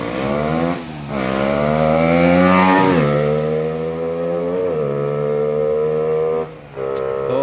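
A motorcycle fitted with a 28mm Keihin carburetor revs hard on a test run, its engine note swooping up and down through several throttle blips, loud and close with no talking.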